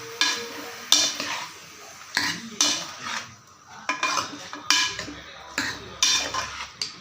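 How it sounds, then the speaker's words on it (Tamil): A metal spoon scrapes and clanks against a pressure cooker pot in repeated strokes while country chicken curry stirs and faintly sizzles, close and busy. "இதை லைட்டாக ஒரு பரட்டு பரட்டி விட்டுடலாம்"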